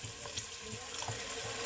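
About two tablespoons of water go into onion masala in a cooking pan, giving a short, steady splash and trickle that runs evenly throughout.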